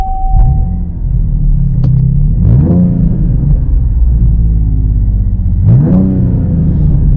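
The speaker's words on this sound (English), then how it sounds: "Starting the engine." A 2026 Dodge Charger Scat Pack engine cranks and fires up, then settles into a steady rumbling idle with two short revving blips, loud and close with no talking.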